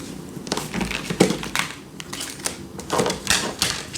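Tarot cards are shuffled by hand with long nails, giving uneven bursts of papery riffling, tapping and clicking in quick clusters, close up and moderately loud, with brief pauses between handfuls.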